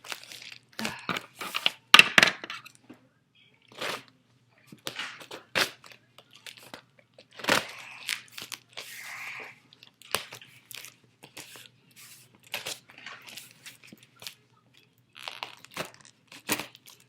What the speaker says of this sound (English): Kind of just bubble wrapped it in a bunch of tape.